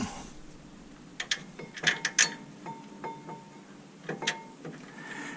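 A ratchet clicks in short uneven bursts while tightening a brake caliper bracket on a 2012 Dodge Ram 1500 pickup, the sharp metallic ticks coming close and clear between pauses.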